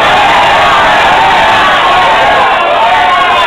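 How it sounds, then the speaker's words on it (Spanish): Steady, loud cheering and shouting from a packed audience, children among them, at a Halloween costume contest in Duitama, Boyacá, unbroken throughout. "Aplausos, ah, no, por el bailarín de los hoteles."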